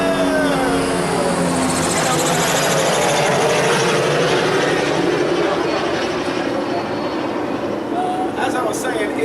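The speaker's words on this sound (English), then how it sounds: "Helicopter!" A helicopter passes loudly overhead, a droning engine and rotor roar whose pitch slides downward as it moves away.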